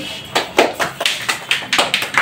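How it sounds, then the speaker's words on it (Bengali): A small group of people applauding in a short, uneven patter of handclaps, close by and moderately loud, with no talking over it. "গোরাচাঁদদাকে একটু সবাই হাত তালি দেবেন।"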